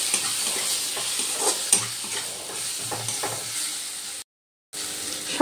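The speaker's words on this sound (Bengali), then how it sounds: "এবার আমি ভালো করে একটু কষিয়ে নেব" Broad beans sauté in a hot pan with chili and turmeric powder. A continuous sizzle runs under scraping and stirring strokes, then drops out briefly before resuming.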